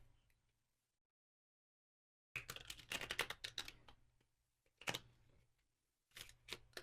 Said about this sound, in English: Now I'm just going to shuffle it